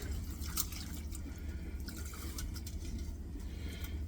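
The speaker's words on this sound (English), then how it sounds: "So just going to pour it through a strainer." Washed sunflowers and water poured through a strainer, a steady close splashing trickle and dripping running evenly throughout at low level with no talk.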